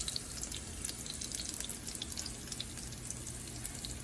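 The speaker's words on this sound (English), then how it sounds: "Once you start to see the edges browning, which we can see here, you can flip them." Gluten-free crab cakes fry in a pan with a faint, steady sizzle and soft popping crackles, heard close with no talking.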